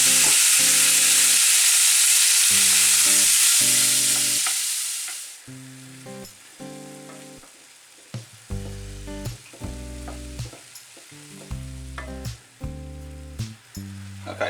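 Lamb frying in olive oil in a small pan, a loud steady sizzle that fades out partway through, followed by a rhythmic musical background.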